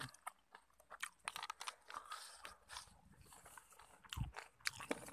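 Crisp, crunchy chewing up close, with repeated bites and crackles in an irregular rhythm and no talking.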